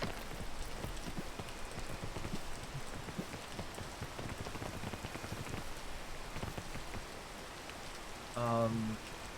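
Steady rain hisses and patters across a surface in a video game, an even, dense wash that holds throughout with a brief tonal blip near the end.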